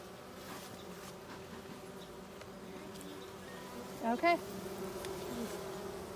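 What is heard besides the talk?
bees buzzing around an open beehive during inspection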